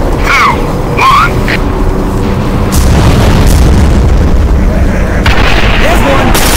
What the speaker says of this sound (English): Orbital artillery has just been informed. Bombardment to commence in 3, 2, 1.